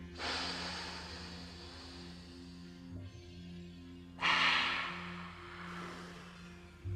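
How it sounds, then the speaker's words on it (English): Deep cleansing breath, a long audible inhale followed by a slow whooshing exhale, close and breathy over a faint hum, with no speech. "Now take a deep cleansing breath."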